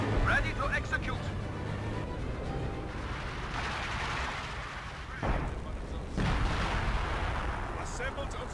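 Artillery blasts and gunfire from a World War II battle in Company of Heroes 2, steady and moderately loud, with sharper bursts near the end and game unit voices calling out over the fighting.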